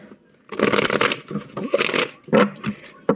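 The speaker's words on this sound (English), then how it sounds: "let's keep shuffling" Tarot cards being shuffled by hand, with several bursts of crisp riffling and flicking close up and fairly loud, separated by brief pauses.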